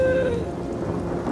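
Cartoon rain and thunder effect from an animated short: a steady wash of rainfall with a rumbling thunder roll, loud and continuous through the whole moment with no talking over it.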